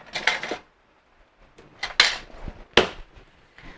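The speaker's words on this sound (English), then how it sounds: "I'm just going to mix this up." Homemade tomato sauce stirred in a pot, with three separate bursts of clattering utensil scrapes against the pot, each lasting about half a second, close and moderately loud, with quiet pauses in between.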